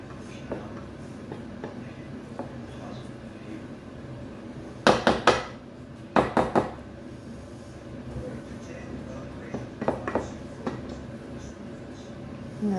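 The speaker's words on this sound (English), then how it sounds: "we're just going to smash them into the bottom of the baking dish" Cooked soft potatoes are pressed into the bottom of a baking dish, giving two short clusters of sharp knocks and clatters against a quiet kitchen background, then a few lighter taps later.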